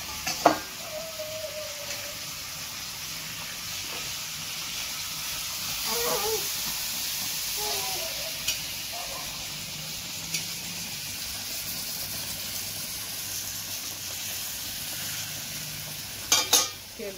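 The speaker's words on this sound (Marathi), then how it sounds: "माशांना परतून घेते" Fish frying on a flat tawa in a home kitchen gives off a continuous soft sizzle and hiss, with scattered light clicks and pops and a brief clatter near the end.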